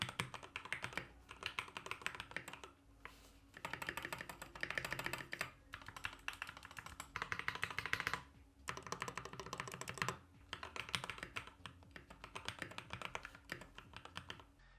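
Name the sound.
typing on rebuilt mechanical keyboard with milky yellow switches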